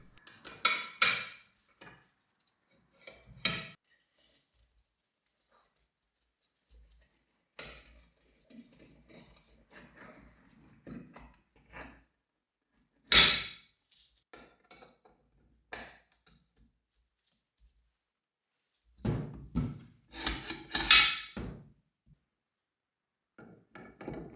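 Metal parts of a WW2 Thompson submachine gun click, clank and thunk during reassembly, in sparse bursts separated by quiet pauses, close by, with no talking.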